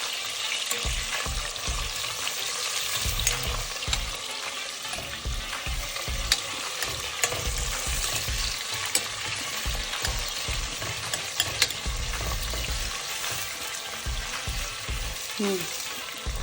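Hot oil crackles and pops continuously while vegetables for pulao are mixed in a pressure cooker, with scraping stirs and occasional sharp spatters close by.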